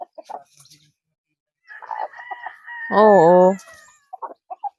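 Chickens in a rural Philippine yard give short scattered clucks before a rooster lets out one loud, close, wavering crow lasting about half a second, followed by a few more brief clucks.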